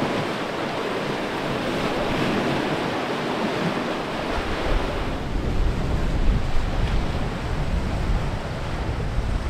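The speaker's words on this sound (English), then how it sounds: "Just the sound of the waves and the water." Waves and rushing water wash against the hull of a sailing boat underway on the North Sea, a steady, loud broadband roar with wind noise and no voices.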